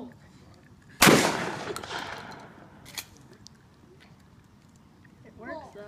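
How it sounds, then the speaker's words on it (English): A single sharp gunshot cracks loudly at an outdoor shooting range and decays quickly, followed by fainter clicks and handling noises, with a voice briefly heard near the end. "Tim shoots like a frontiersman."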